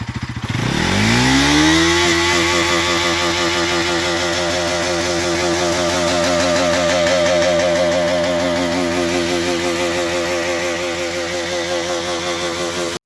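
A Bajaj Pulsar NS 200 motorcycle engine cranks and catches within the first second. It then settles into a loud, steady, close-up idle with an even throbbing rhythm for the rest of the clip, and no one speaks.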